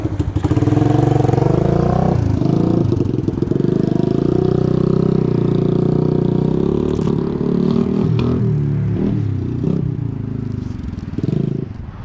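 A 1986 Suzuki Quadrunner LT250EF ATV engine runs steadily and loudly up close, a continuous rough idle with clattering mechanical noise and slight revving throughout.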